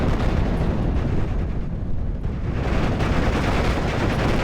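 Panzergrenadiers fire on a rifle squad in the Steel Division: Normandy 44 game, a dense, continuous roar of gunfire and explosions that stays loud and steady throughout, with no voices.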